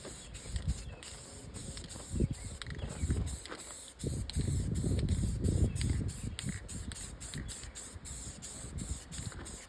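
Spray paint hisses onto a metal coin door bracket from a Satan's Hollow arcade machine restoration, in several close bursts with brief mechanical clicks between them.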